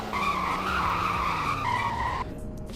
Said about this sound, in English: Here's the brake test.